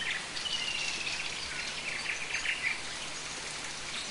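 Steady heavy rain hisses across the scene while birds chirp and whistle through it, several calls rising above the downpour at moderate distance, no voices.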